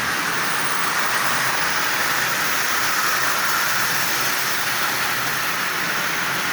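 A Marx 490 toy locomotive with a micro motor and vinyl tape traction tires speeds around its track at 50% power, a continuous close-up whir and track rattle holding level from start to finish.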